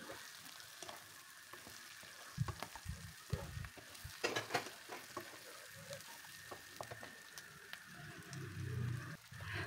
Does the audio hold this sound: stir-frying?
yes